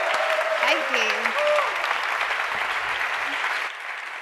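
Loud, steady applause from a conference audience in Vienna for a strategy-slam presenter taking the stage, continuous clapping filling the room with a slight drop near the end.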